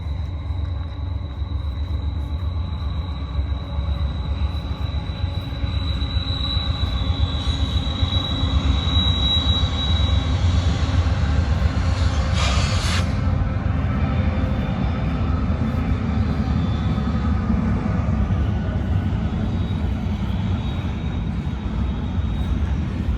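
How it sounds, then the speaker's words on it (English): A Norfolk Southern train rumbles steadily across a bridge, its railcars producing a continuous low roar. A high wheel squeal rings out through the first half, and a brief sharp screech follows midway. No one speaks. "we got a Norfolk Southern train coming over the bridge"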